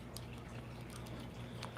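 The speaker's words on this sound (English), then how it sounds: "I got the fountain behind me. That's the water sound that you'll be hearing" A backyard water fountain trickles and drips continuously, a faint, steady splashing with light droplet ticks scattered through it and no voices.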